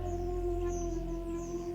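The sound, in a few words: creature's powerful wolf-like howl sound effect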